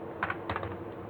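Rapid, light clicking of a computer keyboard while typing in a word processor, a steady close patter of keystrokes with no voices.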